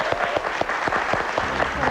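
A studio audience on a Korean MBC television talk show gives a warm round of applause, with dense clapping and several sharp claps standing out.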